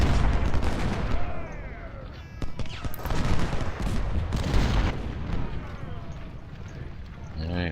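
Cannon and rifle volleys from a Civil War battle video game at First Bull Run, a dense, continuous rattle of gunfire with heavier booms rolling through it, close and loud, with a voice speaking over part of it.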